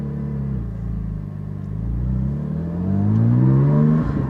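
A GT4 sports car engine, not yet warmed up, revs close by with a deep, steady rumble whose pitch climbs and grows louder toward the end, with no talking.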